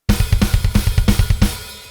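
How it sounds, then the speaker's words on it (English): Double bass drums in a slowed-down metal groove play a triplet subdivision with the feet under eighth notes on the hands, a steady run of about a dozen thudding kicks with snare accents, loud and close, no voices. "he's playing a triplet subdivision with his feet, eighth notes with his hands."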